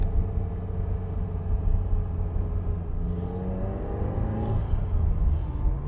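A 1986 Ferrari 328 GTB with its 3.2 liter V8 drives along, a steady low engine drone and rumble holding throughout with a rising rev near the end, heard from inside the car.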